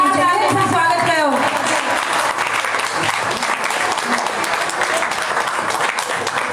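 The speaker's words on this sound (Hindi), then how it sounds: "जोरदार तालियों से स्वागत करो।" An audience breaks into loud, sustained applause to welcome a guest at a gathering, with a voice speaking over the start of the clapping before the applause carries on alone.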